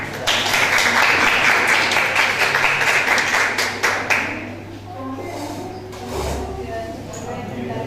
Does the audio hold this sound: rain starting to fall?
no